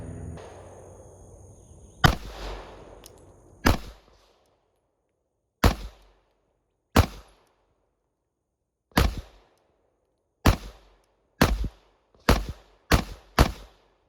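Single pistol shots at an outdoor range, sharp loud cracks spaced irregularly, with one more talk-like stretch at the start and the later shots coming in a quicker cluster toward the end.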